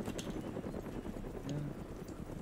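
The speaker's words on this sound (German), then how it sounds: "Da kommt ja, ein anderer Heli." Helicopter rotor in the DayZ video game, a steady low chopping drone with rhythmic thumps, moderately loud and continuous, approaching with no talk over it.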